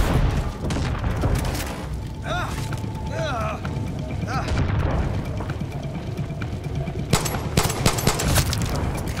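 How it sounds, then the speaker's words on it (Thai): Grenade launcher firing incendiary rounds and explosions in the video game Far Cry 6, a dense stretch of booms and bursts of gunfire throughout, with strong impacts toward the end and a voice briefly heard. "เหมือนปืนเนี้ยมันไม่แรงครับแต่ว่ามันเป็นลูกระเบิดแบบระเบิดไฟอ่ะ"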